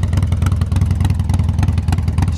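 Harley-Davidson Dyna Super Glide FXD V-twin on a cold start, idling loud and close with a steady, lumpy, fast-pulsing rumble and mechanical clatter.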